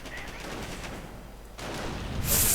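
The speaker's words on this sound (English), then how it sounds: "Bike also sort of moving about, coming in fact under fire from the MG42." An MG42 machine gun fires in a real-time World War II strategy game, a dense rattling burst of rapid gunfire in the mix with other battle noise that swells louder near the end.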